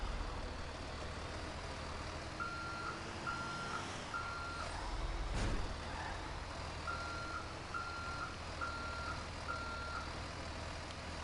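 A truck in a GTA role-play game backs up with a steady series of high reversing beeps in two runs, over a low idling engine rumble, moderately close.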